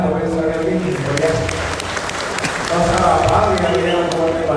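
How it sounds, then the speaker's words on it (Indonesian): Audience applause at a Bandung regency community gathering in Tegalluar village, steady dense clapping that continues for several seconds with a crowd murmur mixed in. "Mari kita berikan tepuk tangan kepada sekali lagi ya."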